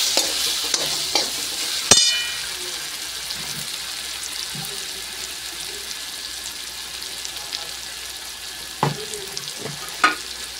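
Puréed vegetables (capsicum, carrot, peas) stirred and frying in a pan for pav bhaji, with a continuous sizzle under scattered scraping and clinking of a spoon against the pan.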